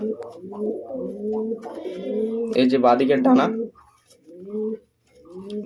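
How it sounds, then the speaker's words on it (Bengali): Pet pigeons of a Kaldoma breed cooing in low, throaty bursts close by, mixed with someone speaking over and between the calls. "একটু মাদি পায়রাটা দেখুন আপনারা"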